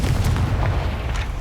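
A Confringo fire spell exploding in the video game Hogwarts Legacy: a loud, deep booming blast with a heavy rumbling low end that quickly fades.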